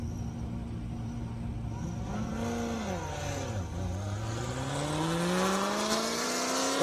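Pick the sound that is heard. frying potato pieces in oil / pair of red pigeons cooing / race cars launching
race cars launching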